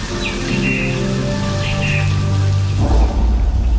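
Simulated flash flood rain effect on the Universal Studios Hollywood backlot tour: a steady loud rush of falling water with a swelling surge near the end, heard close and alone.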